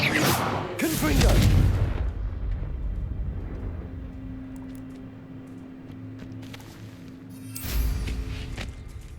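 A Confringo spell explosion in Hogwarts Legacy bursts out as a deep, loud boom near the start and then fades into a low rumble, with a second blast following close to the end.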